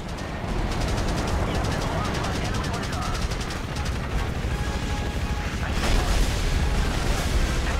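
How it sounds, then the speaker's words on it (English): Rapid 30mm cannon fire from an Apache helicopter in the video game Apache: Air Assault rattles in a dense, continuous stream of loud shots over rotor and battle noise. "the AI gunner will control the 30mm cannon, taking out targets of opportunity as long as it has a stable platform from which to fire"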